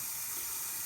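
Steady hiss of tap water running over salty pastrami meat as it is rinsed under a faucet, a brief continuous wash with no voices.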